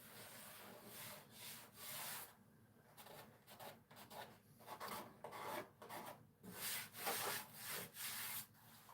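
Rough fiberglass being hand-sanded, a steady scratchy rasping in repeated back-and-forth strokes of uneven length, close and fairly quiet with short pauses between passes.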